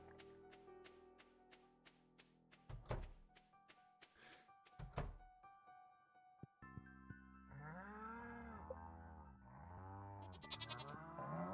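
Goat bleats from Stardew Valley's farm, a string of wavering cries following soft thunks and taps, set against light game music.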